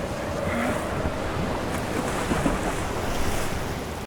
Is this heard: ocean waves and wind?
yes